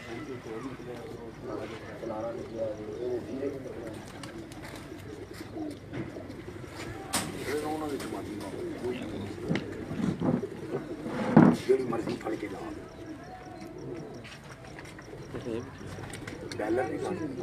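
Pigeons cooing on a Rawalpindi rooftop loft, soft repeated low coos under near continuous talking by a man, with a few louder bursts.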